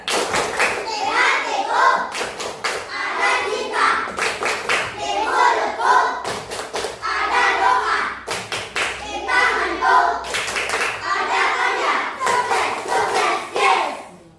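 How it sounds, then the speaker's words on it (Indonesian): A classroom of children does the rhythmic 'tepuk sukses' clap, repeated patterned bursts of sharp claps interleaved with chanted group voices, close and lively throughout. "Tepuk sukses."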